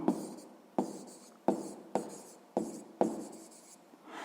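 Close, quiet pen strokes on paper, about six short scratching marks in a steady rhythm with brief pauses, with no talking.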